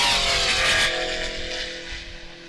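A Chevy II drag car runs at a road racing shootout and roars past close by. Its loud engine swells, then fades into a lower, steadier drone as it pulls away, with no voices.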